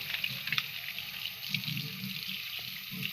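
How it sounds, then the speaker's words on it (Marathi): Vam eel fish is rinsed in water, with soft sloshing and splashing from hands working in a basin mixed with faint trickling, close and continuous with no voices. "ही वाम धुवून घेतली आहे तिला थोडे अजून धुवून घेते"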